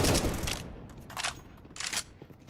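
Gunfire in a competitive esports video game match: three separate bursts of rapid shots, fairly faint and spaced out with quieter game noise between them.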